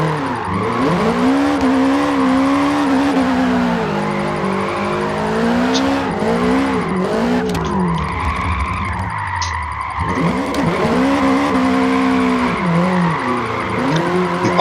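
A Toyota GR86 in a racing video game drifts along a mountain touge road, its engine droning and revving continuously while tires squeal through the slides, loud and steady throughout.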